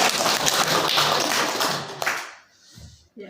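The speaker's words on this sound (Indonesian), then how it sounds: "Maka tepuk tangan dulu." Audience clapping at a provincial government work visit in Merauke, Papua, a dense burst of applause that fades out after about two seconds, followed by near silence and a faint thump.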